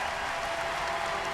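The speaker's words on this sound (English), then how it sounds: "The crowd just got the announcement, and listen to them roar for the first time today" A home crowd at a 2013 Washington versus Stanford women's volleyball match roars and applauds, a steady, loud wash of noise filling the whole moment.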